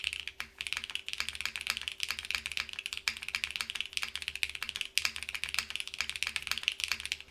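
Typing on a KBDFans Margo mechanical keyboard fitted with PBT keycaps, a close, steady flurry of clacky keystrokes with brief pauses between bursts.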